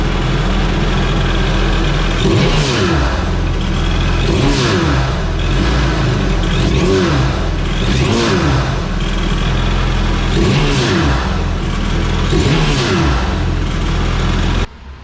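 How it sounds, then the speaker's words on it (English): A supercharged WaveRunner engine with a blow-off valve runs loudly and is revved repeatedly, rising and falling in regular surges over a steady rumbling idle. "We'll give it a couple of revs and see how she sounds."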